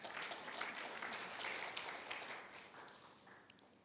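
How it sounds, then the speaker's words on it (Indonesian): A congregation at a Sunday church service applauds: a dense wash of clapping from a crowd, fairly faint and distant, fading gradually toward the end, with no voices. "Tepuk tangan."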